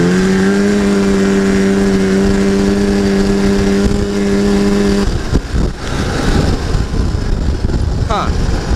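Arctic Cat Jag 440 snowmobile engine running at high revs, a steady harmonic drone for about five seconds that cuts off abruptly, followed by rougher rumbling and clatter.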